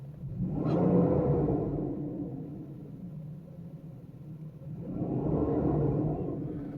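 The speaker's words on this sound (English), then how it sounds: "So yeah, it sounds like a proper V12 now." A 1995 Mercedes S600 coupe V12 engine with a repaired exhaust idles and rumbles deeply, swelling twice in low revs with a brief whine, steady and close with no talking.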